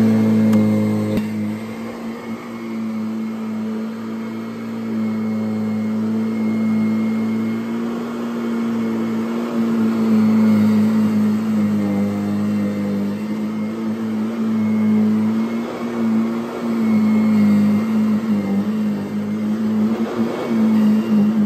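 A Kirby vacuum cleaner running steadily, a loud continuous motor whine with a strong constant hum and slight shifts in pitch as it moves, with no talk over it.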